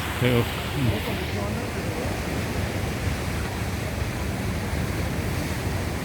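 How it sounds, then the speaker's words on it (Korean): Steady broadband roar of surf washing in continuously on Korea's east coast at Dochaebigol, Donghae, with a brief voice at the very start and no clear individual wave breaks. "하늘에 구름이 있어서 그런지 파도가 많이 칩니다"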